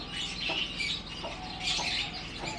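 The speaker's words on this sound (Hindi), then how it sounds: "बहुत लड़ाका मुर्गा है ये।" A fighting rooster with a double comb, flattened at the front, gives a run of low clucks and throaty calls in close, loud bursts, with no one talking.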